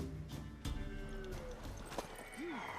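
Hooves clip-clop in quick steps in The Witcher 3: Wild Hunt, with a short horse whinny near the end over a faint background.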